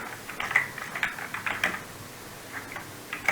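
Computer keyboard keys tapped while typing in a word processor, irregular light clicks in small bursts, close and fairly quiet with no talk.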